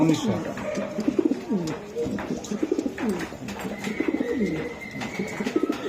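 Damascene, Budapest and racer pigeons coo repeatedly in a rolling, throaty rhythm, close and fairly loud, with faint voices and scattered noises in the background.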